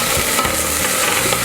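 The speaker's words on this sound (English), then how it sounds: "We're going to quickly toss it around until it's really fragrant, and then I'm going to put in the pandan leaf as well, sesame oil, and a bit of soy sauce" Stir-frying in a pan with pandan leaf, sesame oil and soy sauce for Hainanese chicken rice: a steady close sizzle with scraping and tossing, continuous for a second and a half with no voices.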